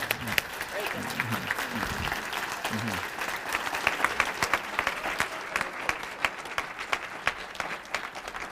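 Audience applause after a speech at a college's annual address, many hands clapping in a broad sustained roar with sharper individual claps poking through, while a voice speaks briefly early on.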